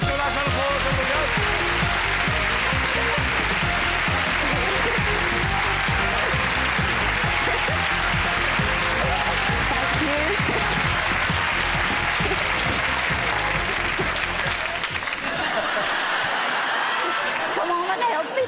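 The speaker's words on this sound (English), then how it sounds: "Let's do a nice round of applause." A game-show studio audience applauds steadily in a sustained, dense wash of clapping for about fifteen seconds, then trails off quickly near the end.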